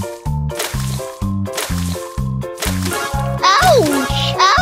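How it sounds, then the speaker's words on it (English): Squirting cucumber seeds fire in a children's science game, a run of rhythmic wet squishing pops about once per second, ending in a sliding cartoon effect, with a voice in between. "Drag Quacky to fire squirting cucumber seeds."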